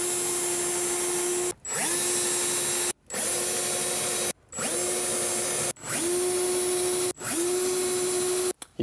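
A power drill bores a series of pilot holes for fitting a soft-close larder unit, with five or six whirring bursts that each spin up and run steadily, separated by brief pauses, close and clear.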